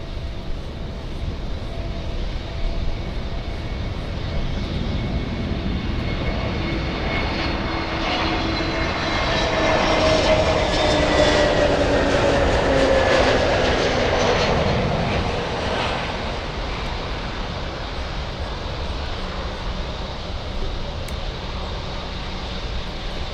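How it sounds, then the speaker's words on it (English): An Airbus A321 airliner inbound from San Juan lands at Miami International, its engine roar swelling steadily to a peak mid-clip and then easing back, heard from a distance over a continuous outdoor rumble. "this is the A321 flying in from San Juan, Puerto Rico, landing 1 hour 30 minutes late"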